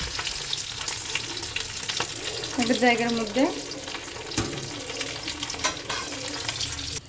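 Catla fish head sizzles and crackles as it fries in hot oil in a kadai, with a burst of stirring and louder spitting in the middle, while a person talks briefly nearby.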